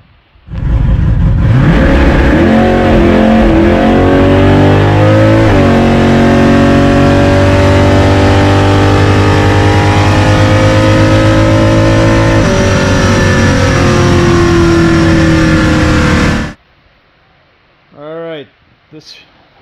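A Chevy 400 drag car launches down a drag strip, its engine roaring loudly with rising revs that climb through several gear shifts before cutting off abruptly, followed by a short burst of distant noise.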